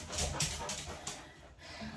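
A dog panting after a bath, quick soft breaths with faint whimpers, fairly quiet and close, with no talk over it.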